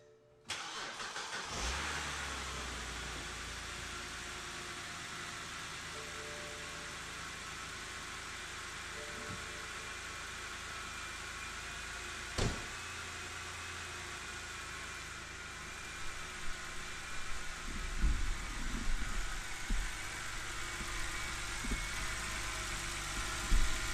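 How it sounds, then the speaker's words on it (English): A manual BMW 530xi wagon engine turning over on a true cold start, catching after a brief crank and then settling into a steady, even idle, with a few small clicks and knocks toward the end. "It started very smoothly, and that was, like I said, a true cold start."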